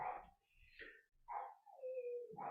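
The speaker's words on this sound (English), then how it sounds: "you can hear my dog going crazy" An excited dog barks faintly in the distance, with short yips mixed with a longer whining cry, near a drum kit.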